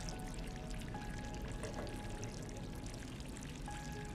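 Water pours steadily in the video game Stray, a continuous broadband splash that runs unbroken and fairly loud throughout, with no voices over it.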